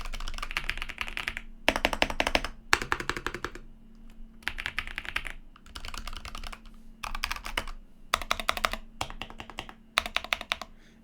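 Mechanical keyboards, EP84, EK68, AULA F75 and Logitech G413, typed on in turn, each a rapid run of close, clacky keystrokes separated by short silent gaps.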